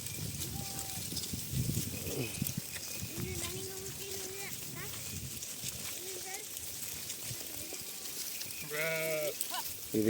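A large ram bleating on a farm among other sheep, several wavering bleats at moderate distance, one louder and nearer toward the end, over a steady outdoor background with people talking.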